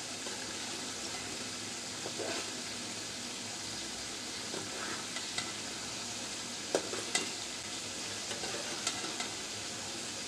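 Bata fish frying in a pan with cauliflower curry base, a steady close sizzle with occasional utensil clicks as the fish is turned, no talking.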